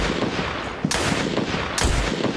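Loud, close gunshots in the horror game Fear and Hunger Termina: a sustained rattle of fire punctuated by two sharp, heavier blasts about a second apart, with no voices.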